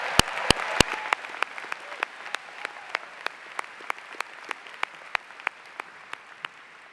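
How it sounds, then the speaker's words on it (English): Audience applause at an Ithaca College commencement ceremony, a broad steady wash of clapping with a few sharp individual claps standing out early and then recurring at an even pace. "Can we give him another round of applause?"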